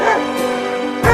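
A dog lets out a couple of close, loud barks, one at the start and another near the end, with a sustained whining tone between them.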